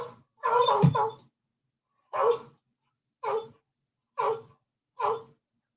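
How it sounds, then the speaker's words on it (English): An Amazon Alexa smart speaker plays a recorded dog barking: one longer burst followed by four short, evenly spaced barks, clear and close with silence in between. "Alexa, bark."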